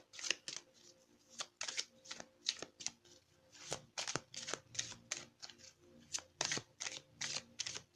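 Tarot cards being shuffled by hand during a reading, a fairly close series of quick riffling, snapping bursts in an uneven rhythm with brief gaps between them, heard alone without talk.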